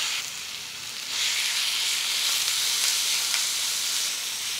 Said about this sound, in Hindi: हमने 1 टीस्पून ऑयल गर्म करने के लिए रखा है